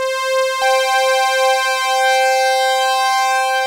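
A UDO Super Gemini synthesizer plays a classic analog patch: a bright, buzzy sustained tone rich in harmonics, re-struck once early and held steady with slight drift, loud and alone.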